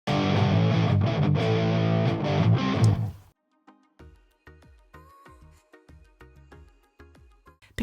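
Electric guitar with an EQ low cut thinning out its body plays a loud, dense strummed passage for about three seconds, then stops abruptly and gives way to sparse, quieter single plucked notes.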